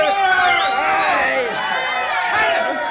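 A dense crowd at a Milwaukee Brewers tailgate pennant party cheers and whoops loudly, continuous close shouting throughout.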